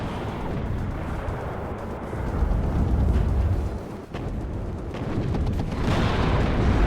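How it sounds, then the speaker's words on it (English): Anti-tank missile launches and explosions in the WARNO strategy game, a dense rumbling battle bed with dull booms and bursts rising and falling, one sharp dip midway, no speech over it. "Got my ATGM still firing here, trying to do some damage."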